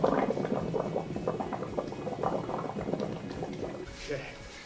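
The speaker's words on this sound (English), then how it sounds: "I'm gonna get my hands wet, then I'm gonna pick up the bubbles" Wet hands scoop through a mass of hydrogen-filled bubbles, giving a dense, crackling fizz and soft wet squelches that fade slightly toward the end.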